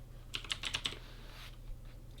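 A burst of about six quick, crisp keystrokes on a computer keyboard while typing Python code, close and clear, followed by quiet with a few faint later taps.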